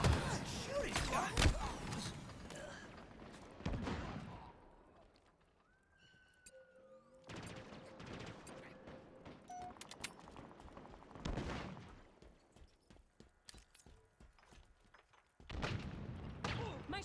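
Gunfire in a Halo video game, bursts of rapid shots and impacts in uneven clusters with quiet gaps between, mixed with other game effects and a brief tonal sound, moderately loud at the start and end.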